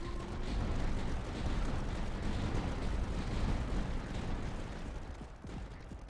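Mortar fire and explosions in the video game Tower Dominion form a dense, continuous rumbling barrage of booms and blasts, loud and steady throughout with no talking.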